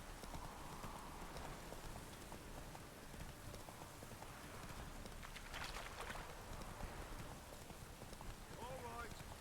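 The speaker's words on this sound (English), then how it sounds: "Whoa there, Roach." A horse gallops in a video game about a witcher and monsters, with steady clip-clop hoofbeats under rain and ambient noise, faint and continuous, while someone talks over it.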